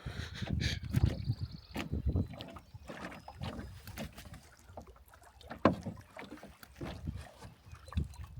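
Canoe paddles dip and pull through water in Algonquin, a series of soft splashing strokes with gurgles and drips, repeating at an irregular rhythm close by in a quiet setting.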